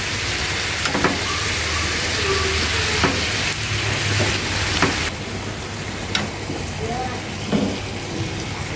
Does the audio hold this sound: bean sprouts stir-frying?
yes